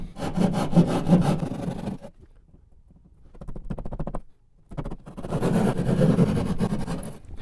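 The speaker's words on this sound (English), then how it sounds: "Tap the saw in carefully. And cut your way down." A hand saw cuts a hole through drywall for an in-wall power box. Close, rhythmic rasping strokes come in three bursts, with a brief quiet gap between them.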